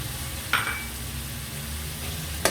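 Spices are stirred into chicken and okra in a hot pan, a spoon scraping over a constant sizzling, frying hiss, with a couple of brief clinks against the pan.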